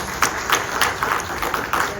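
An audience claps for a speaker at an evening presentation, a modest, fairly thin patter of hands with a few sharper individual claps standing out, fairly close.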